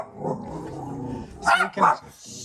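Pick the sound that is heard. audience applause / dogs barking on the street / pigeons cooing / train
dogs barking on the street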